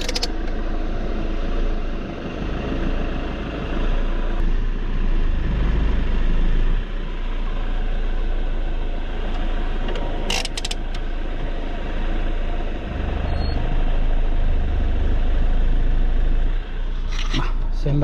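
An engine rumbles steadily at idle, swelling slightly as it is revved lightly, with a few sharp clicks and rattles nearby.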